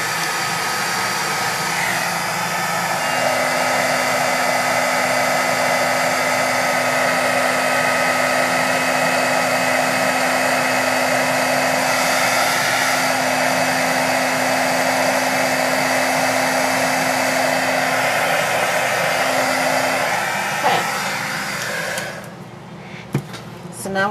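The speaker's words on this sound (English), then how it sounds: "Let my heat gun heat up a little bit before I start" A heat gun blowing hot air for card embossing, a loud continuous close whoosh with a steady tonal whine that runs almost the whole time, then cuts off near the end.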